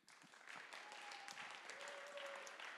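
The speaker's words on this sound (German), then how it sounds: "Applaus für Sophie." An audience at a German science slam championship final applauds a contestant, a dense, steady wash of clapping that swells in and holds throughout.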